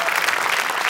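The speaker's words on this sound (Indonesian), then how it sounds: "Tepuk tangan buat Arya Novriano." Studio audience applauding a stand-up comedian on a comedy competition show, a dense, continuous wash of clapping at full volume throughout a short burst.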